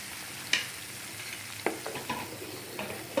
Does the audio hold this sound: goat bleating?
no